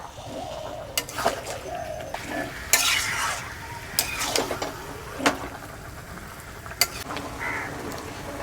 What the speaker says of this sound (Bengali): বাটা মশলার সাথে মাংসটা ভালো করে কষে নেবো